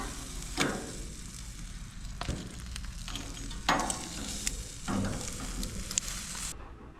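Lobster tails sizzle in a pan of melted butter, a steady soft crackle broken by a few louder bursts as pieces are added or moved, close and with no one talking.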